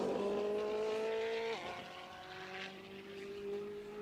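A high-value supercar is driven hard, its engine note holding a loud tone then dropping sharply as it passes and fades into a lower, more distant drone.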